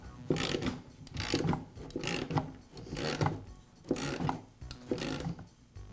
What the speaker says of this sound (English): I'll tighten this up until the lock washer just contacts both the nut